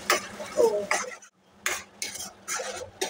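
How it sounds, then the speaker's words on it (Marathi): Palak rice mixture stirred and sautéed in oil in a pan, with bursts of scraping spoon-on-pan stirring and a light sizzle, separated by brief pauses. "तर 1 मिनिटभर आपल्याला हे व्यवस्थित तेलामध्ये परतून घ्यायचं आहे."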